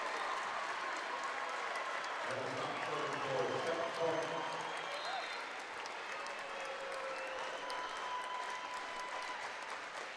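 A high school volleyball championship crowd cheers and claps at set point, a swelling roar with whistles and shouts under a commentator's voice, fairly distant and steady.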